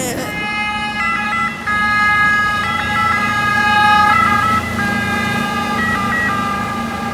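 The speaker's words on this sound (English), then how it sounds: "that was an ambulance" An ambulance siren in Venice wails loudly nearby in a steady repeating two-tone pattern, holding close for the whole stretch over a low background rumble.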